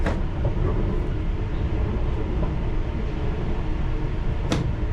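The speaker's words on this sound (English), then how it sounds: "So we can go into the siding here, you just see the track going off to the right hand side there, and we can reverse" Interior rumble of a London Underground Piccadilly line train moving into a siding, loud steady low roar and rattle with faint clunks and a sharp squeal or bang near the end.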